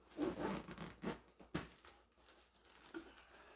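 A waterproof zipper on a lightweight 40-litre backpack is drawn open in a few short, rasping pulls close by, fairly faint against a quiet background.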